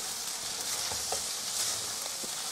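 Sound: stir-frying fried rice with Chinese cured meats

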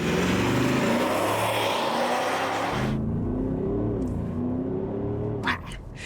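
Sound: Audi SQ8 diesel engine exhaust revving

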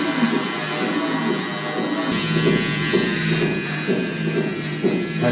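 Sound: tattoo machine buzzing while tattooing

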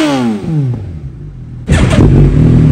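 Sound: Suzuki Hayabusa gen 3 motorcycle engine revving without exhaust

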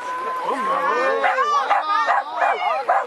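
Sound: dog barking at agility jumping training

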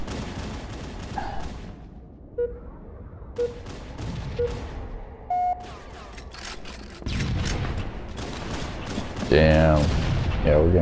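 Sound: gunfire in the video game Halo CE

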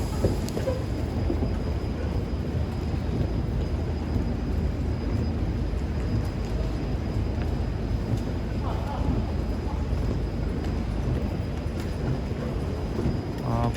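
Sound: KTX train pulling into Seoul Station

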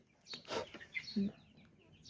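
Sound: hen clucking

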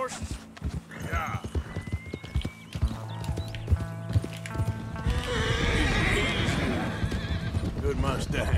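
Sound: Mustang horse hooves and neighing in Red Dead Redemption 2 video game

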